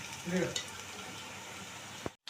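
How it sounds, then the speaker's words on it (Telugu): Garlic frying in oil for a mint chutney tempering, a steady close hiss of sizzle with a brief louder burst of stirring early on, ending in a sharp clatter and a short dropout. "ఎల్లుల్లిపాయలు అయితే ఫ్రై చేసుకోవాలి"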